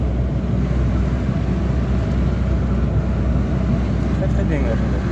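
A car engine runs with a steady, dense rumble and hiss, its engine bay freshly cleaned; the noise holds constant and fairly loud throughout, with no clear breaks.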